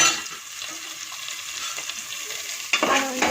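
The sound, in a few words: tempering browning while being stirred in a pan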